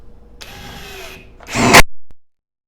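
Dong Cheng 1/2-inch cordless impact wrench on the high setting: a short motor whine, then a loud, harsh burst of hammering that stops abruptly, all heard up close.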